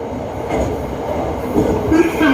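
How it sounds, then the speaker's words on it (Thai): A commuter train on Bangkok's SRT Red Line picks up speed through a curve toward the Southern Line near a tunnel, giving a steady rumbling roll with rising wheel squeal and rail clatter toward the end. "รถไฟก็เร่งความเร็วขึ้นนะครับ ระหว่างโค้งเข้าสู่สายใต้นะครับ"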